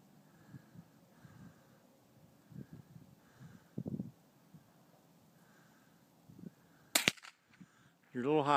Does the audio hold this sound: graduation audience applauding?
no